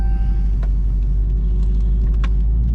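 A Dodge Challenger Hellcat idles with a low, steady rumble after being restarted following limp mode and misfiring during a burnout, a few faint clicks and knocks over the engine drone.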